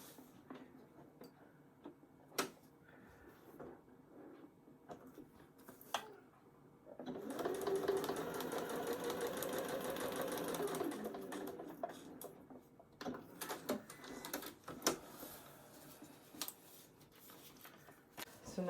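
A sewing machine stitches a paper pieced Christmas star, running in a steady rapid whir for about six seconds, with scattered clicks and handling taps before and after.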